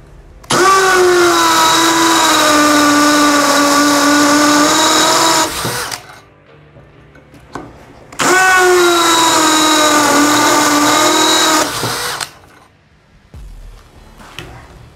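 A Bosch GSB 185-LI cordless drill runs with a 10 mm bit in two long, steady whining bursts of about five seconds each, close and loud, separated by a short pause.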